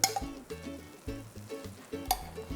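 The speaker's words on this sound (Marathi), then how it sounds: "आता यामध्ये आपल्याला घालायचं आहे थोडंसं साजूक तूप" Ghee goes into a hot, cooking ginger mixture. A soft sizzle continues under repeated light stirring and scraping, with one sharper clink near the end and no voices.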